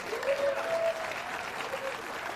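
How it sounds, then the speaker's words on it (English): A crowd at a spring benefit event claps in a brief burst of applause, with a voice rising briefly over the clapping. "so a round of applause"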